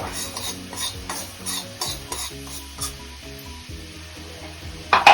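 Mustard seeds warm in a dry pan for amla pickle, stirred with a spoon that scrapes and lightly ticks against the metal in a steady rhythm, close up with a soft sizzle and no voices.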